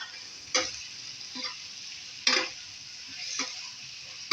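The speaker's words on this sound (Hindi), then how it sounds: "अब इसको भी डाल के 1 से 2 मिनट इसके अंदर इसको फ्राई करेंगे" Chicken sizzling in a hot pan with ginger-garlic paste for chicken karahi, a steady crackling hiss broken by a few sharp scraping stirs of a spatula against the pan.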